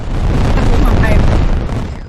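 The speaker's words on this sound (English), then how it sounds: "Fireworks!" A loud fireworks explosion sound effect: a sustained, rumbling boom that fills the moment, then slowly fades out at the end.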